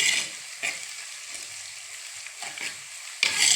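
Spices and fenugreek frying in a pan for a homestyle Kerala tuna fish curry, a soft sizzle with a few scraping stirs at intervals, quiet and close, no talk.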